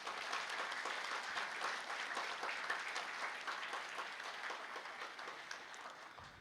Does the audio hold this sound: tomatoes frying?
no